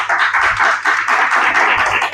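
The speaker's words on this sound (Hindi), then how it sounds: "ताली बजाएंगे।" A church congregation at a Sunday service claps together in a dense, steady, loud rhythm with no voices over it.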